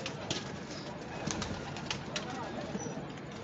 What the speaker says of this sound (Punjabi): ਉਹਨਾਂ ਨੇ ਉੱਡਣ ਵਾਲੇ ਆਪਣੇ ਕਬੂਤਰ ਛੱਡੇ ਹੋਏ ਨੇ